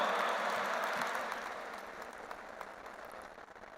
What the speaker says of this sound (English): Welcome with a big round of applause, Honorable D. Todd Christofferson.